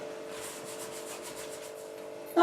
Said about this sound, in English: now I'm going to get the Euro Scrubby in, see if it helps